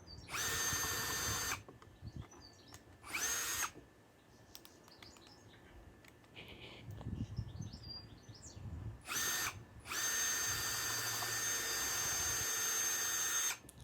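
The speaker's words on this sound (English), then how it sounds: "and then a bit of fun with the drill" A power drill drills holes in wood in several bursts of one to two seconds each, separated by pauses where faint birdsong and quiet background sounds come through.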